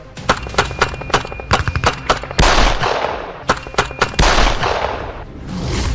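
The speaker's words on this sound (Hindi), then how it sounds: "थाने के सामने अंधाधुंध फायरिंग।" Rapid bursts of gunfire ring out in front of a police station, sharp repeated cracks in quick irregular volleys with a couple of louder sustained blasts, close and loud with no talking.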